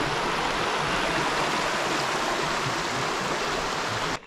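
Steady, loud rush of a babbling brook along a forested hiking and mountain-biking trail near Fishing Creek, broadband water noise continuing unbroken for several seconds before cutting off abruptly at the end.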